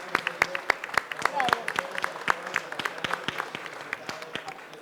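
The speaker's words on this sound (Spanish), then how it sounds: "a quien solicito por favor un aplauso" A small audience at a book presentation claps for the book's author, with sparse, distinct individual claps at close range and soft murmuring underneath over a few seconds.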